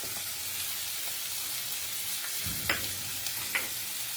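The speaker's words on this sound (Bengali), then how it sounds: "এবারে এগুলোকে একসাথে করে কষিয়ে নিচ্ছি" Spices, chili paste and mixed vegetables with paneer being stir-fried in a pan, a steady soft sizzle with a few brief scraping stirs near the end, no talking.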